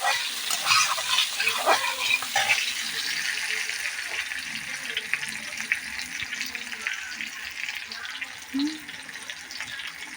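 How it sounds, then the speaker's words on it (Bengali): Potatoes fry steadily in a pan, a fairly close, continuous sizzle. Occasional stirring scrapes break through, and a voice is heard briefly at times. "এই যে আলুগুলো আবার ভেজে নিচ্ছি একটু লাল লাল করে"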